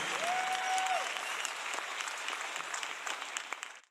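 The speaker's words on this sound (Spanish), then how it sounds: "Un aplauso para Dani" Audience applause at a live concert, a steady dense wash of clapping that holds for several seconds and then trails off at the end, with a brief whistle near the start.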